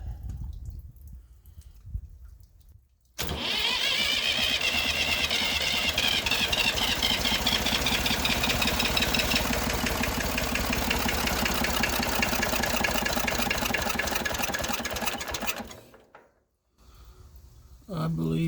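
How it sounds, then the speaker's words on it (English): A Massey Ferguson 35 three-cylinder diesel tractor engine starts after a few quiet seconds and runs with a loud, steady knocking idle. It then cuts out, leaving a brief hush and some faint background noise. "We're going to crank it back up, see if we got any leaks on these fuel injectors."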